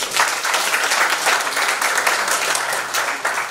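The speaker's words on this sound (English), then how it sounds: "one more round of applause for more." A conference audience gives a loud, close round of applause, a dense continuous clatter of many hands that holds steady throughout.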